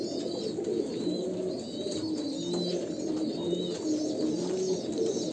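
Kalanka pigeons of a pure Andhra bloodline, including an 8–9-year-old bird, coo steadily in low repeated calls close by, with faint chirps in the background and no talk.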